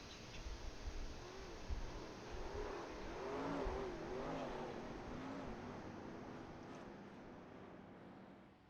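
A Renault stock car from a 1987 Cup Series racing game at Watkins Glen: an engine note rising and falling as it revs, moderately loud, steady under faint ambient noise, no talking.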